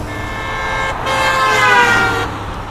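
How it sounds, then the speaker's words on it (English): A vehicle on a desert road grows louder as it approaches, a steady engine drone with a tonal horn-like blare near the middle, loud and close for a few seconds with no speech. "Is that a car?"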